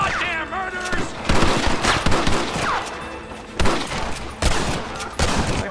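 Gunfire in Red Dead Redemption during a village assault: several loud bursts of rifle and pistol shots crack in quick succession over a tense musical score, with shouting in the background.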